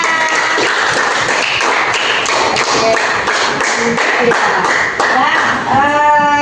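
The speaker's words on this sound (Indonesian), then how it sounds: "kasih tepuk tangan" A class of students in an Islamic religious education lesson clapping hands, loud and close, with distinct sharp claps standing out from the group and voices briefly audible toward the end.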